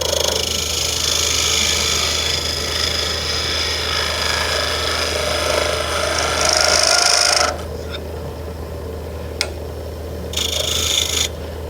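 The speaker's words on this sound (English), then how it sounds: "A little cleanup maybe with a round nose scraper just for fun." A round nose scraper cleans up a wooden piece spinning on a lathe faceplate, giving a steady close scraping rasp over motor hum that cuts off abruptly partway, then briefly resumes near the end.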